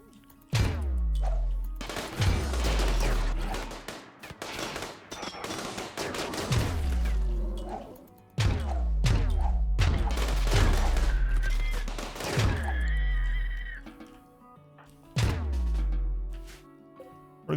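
Turrets in the RimWorld video game fire in heavy bursts of rapid automatic gunfire, several loud volleys separated by short pauses and echoing booms.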